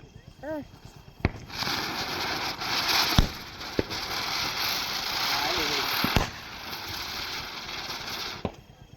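Several sharp Diwali firecracker bangs go off at irregular intervals outdoors, separated by stretches of crackling and background noise, with voices in the background.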